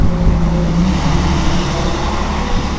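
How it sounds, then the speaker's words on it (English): School bus rumbling past during a wind storm, a loud steady low engine and road roar with broadband wind noise, close by and continuous, no voices. "You mean to say there's a school bus?"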